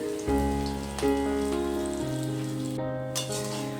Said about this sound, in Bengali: রসুনটাকেও কয়েক সেকেন্ডের জন্য ভেজে নিচ্ছি।